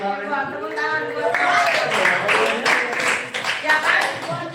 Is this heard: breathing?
no